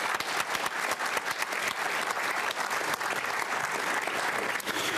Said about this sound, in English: I'd like to take a second and just give them a round of applause